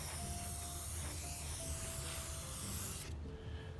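Metallic model paint sprayed in light, even passes, a steady close airbrush-like hiss running continuously for about three seconds before cutting off abruptly, leaving a quieter background.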